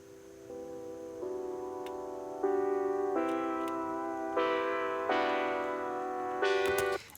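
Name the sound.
sustained synth chords for house track breakdown in Ableton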